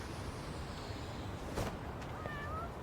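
A cat meows in the video game Lost Judgment, one soft drawn-out mew rising late over a low street ambience, faint and brief.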